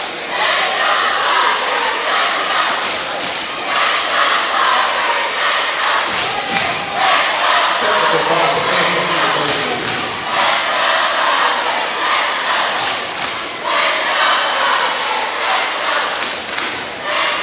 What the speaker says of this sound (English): The cheerleaders got the crowd pumped up.